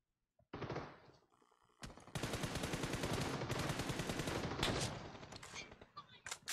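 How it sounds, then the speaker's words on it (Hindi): Gunfire in the mobile battle-royale game BGMI: dense automatic bursts roar almost without pause, loud and close, over a noisy game mix with faint voices in the background. "कान के बगल से गोली निकाली इस प्रतीक को उसने मेरी।"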